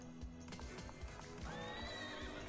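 Horse neigh in a slot machine video game, a rising whinny over rhythmic clip-clop hoofbeats, faint and brief.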